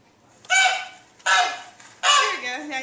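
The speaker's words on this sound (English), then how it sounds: "Now you can hear the goose a lot." Goose honks play back from a smart board's speaker: three loud, separate honks spaced about three-quarters of a second apart, each with a short tail, over quiet room tone.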